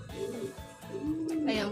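Racing pigeons in a loft give low, rolling coos, several overlapping calls close by, with a voice and other talk mixed in.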